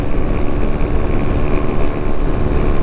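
A Honda Click 125 scooter fitted with a loud power pipe exhaust drones continuously and close, a dense, steady engine roar with no pauses.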